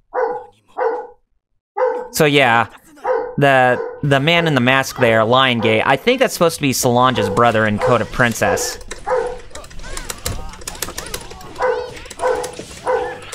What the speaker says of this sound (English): I do apologize for the dog barking